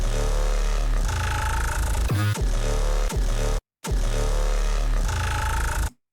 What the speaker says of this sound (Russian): Бас без обработок звучит